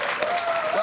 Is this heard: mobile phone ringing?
no